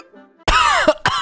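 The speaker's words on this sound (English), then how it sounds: "Hold on, I've got a cough." A person gives a couple of sharp, close coughs, the first longer with a raspy throat-clearing quality, followed by a second short burst after a brief pause.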